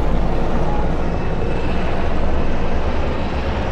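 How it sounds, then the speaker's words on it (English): A pair of military helicopters passing overhead above a college baseball game, a loud, steady roar of rotors and engines filling the air without pause. "A couple of military helicopters."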